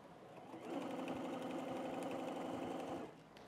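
A sewing machine stitching binding onto a quilted table runner, running at a steady whir for about two and a half seconds, then stopping, heard close up and alone.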